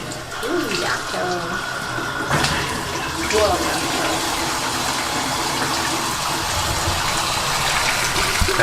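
Water runs steadily from a newly installed Pfister faucet on a Foremost granite vanity top, a continuous splashing rush under the whole stretch, with a person's brief exclamation over it.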